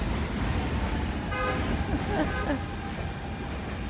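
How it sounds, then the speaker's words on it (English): A car horn honks on a busy street, giving a short tonal blast and a second brief toot midway, over steady traffic rumble with a voice nearby. "Oh, perps be honking."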